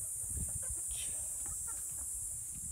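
Hungry chickens on a mountaintop farm cluck faintly and at a distance, a few scattered calls under a steady high hiss.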